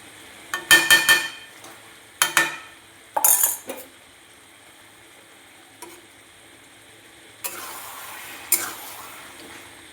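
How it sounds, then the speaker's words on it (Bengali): Ghee-coated food stirred in a frying pan, with a few sharp metal spoon scrapes and clinks in quick clusters near the start, then quieter scattered taps and a faint sizzle underneath. "একটু নাড়াচাড়া করে দিলাম।"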